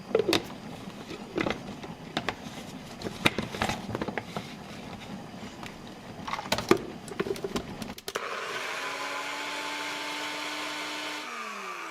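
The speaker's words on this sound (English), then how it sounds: "I'm just going to blend this and we're going to pour it into our blend" A kitchen blender whirs steadily as it blends a dried chile for a Mexican dinner recipe, starting abruptly after clattering prep noises and running loud and even to the end.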